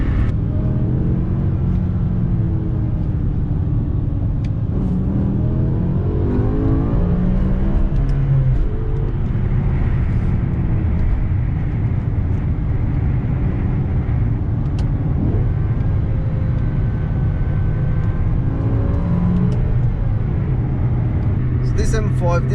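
BMW E60 M5 with its V10 engine accelerating, a deep, loud, steady drone with rising and falling pitch sweeps, heard from inside the car while someone talks over it.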